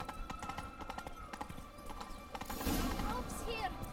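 Roach the horse gallops in The Witcher 3 video game, a rapid, steady clip-clop of hooves under spoken dialogue, with a brief whinny and swelling rush of sound toward the end.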